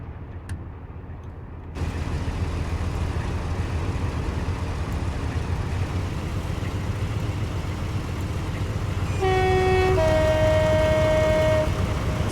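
A Class 58 diesel locomotive in Train Simulator on the Great Western Main Line rumbles steadily with a low engine drone, then a loud two-tone horn blares near the end.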